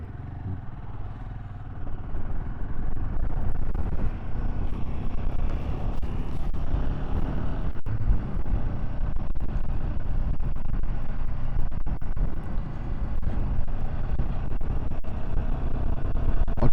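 Royal Enfield Himalayan 452 motorcycle on the move, a steady low engine drone with road and wind rumble running unbroken and fairly loud throughout, no voices.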